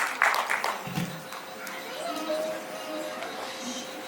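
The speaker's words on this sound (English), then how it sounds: "A big round of applause for Priyanshi Goyal" An audience applauds a student at a Grade 3 school annual show, a scattered burst of claps early that fades into a steady crowd murmur with chatter and a sustained musical tone underneath.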